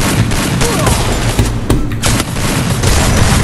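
Dense video-game gunfire in a Brazilian off-road multiplayer match, loud bursts of rapid shots with booming impacts running through the whole stretch, with faint speech mixed underneath.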